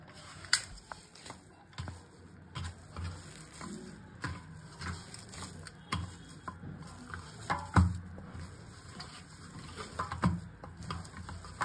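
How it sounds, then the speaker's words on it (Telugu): Veg Manchurian balls dropped one by one into hot oil, a soft continuous sizzle and bubbling with scattered light clinks and taps, fairly quiet, with no speech. "ఇది ఎలా వేస్తారంటే ఇలా తీసి బాలు ఇలా ఒక్కొక్కటి నూనెలో వేసేయటం అనమాట"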